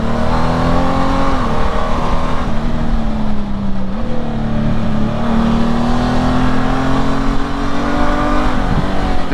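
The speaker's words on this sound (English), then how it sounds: "The bike even sounds different, sounds more aggressive." A 2018–2024 Honda Gold Wing GL1800 motorcycle after an ECU flash tune, its engine droning loud and steady nearby, rising and falling slightly in pitch as it is ridden.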